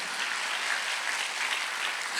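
A church congregation at a Sunday worship service breaks into sustained, even applause, a bright and uniform clapping that fills the room without pause or other sounds.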